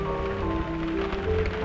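Steady rain falling on large leaves in a tropical setting, a continuous soft patter with a broad hiss and some background tones, moderately loud throughout.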